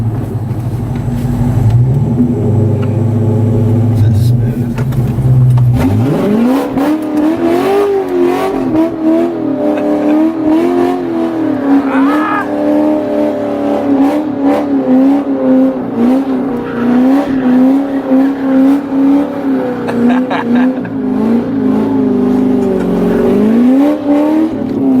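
A loud C6 Corvette idles with a deep, lumpy rumble, then revs hard and holds high, wavering engine howls while drifting, with tire squeal layered over the roar for the rest of the run.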